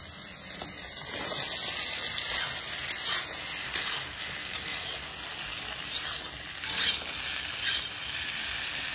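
Sliced ridge gourd tipped in with already fried prawns hisses and crackles in a hot pan, a continuous sizzle with louder bursts and occasional stirring scrapes.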